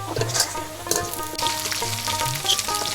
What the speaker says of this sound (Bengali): আলু ভাজা এমনি খাওয়া যাবে, ফ্রেঞ্চ ফ্রাই